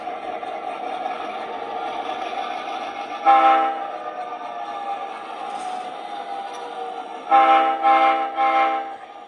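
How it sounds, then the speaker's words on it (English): Small model train horn from a Blunami sound decoder in a 3rd Rail PRR GP7 locomotive, sounding in two bursts, the second a quick triple toot, over a quiet steady electric hum. "I have the auto horn for stop and reverse."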